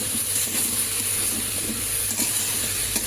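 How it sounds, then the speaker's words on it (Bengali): Shrimp, kohlrabi and potatoes stir-fried in a pan give a steady close sizzle with light scraping and stirring throughout, holding an even level with no talk. "চিংড়ি মাছটা কষানো শেষ, এখন দেব ওলকপি আর 2টা আলু দিয়েছিলাম, তো সেটা দিয়ে ভালো করে কষিয়ে নিব"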